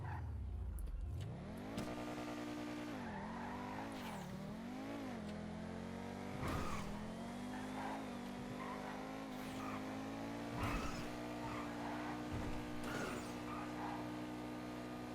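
A car in a GTA video game drives hard with rising and falling engine revs, gear shifts and brief braking and tire squeal, loud and continuous with no talk.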